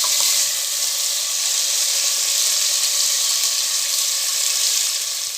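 Potatoes frying in a pan while being stirred for Pui Saker Chochori, a loud, continuous bright sizzle close up that holds evenly throughout with no voices.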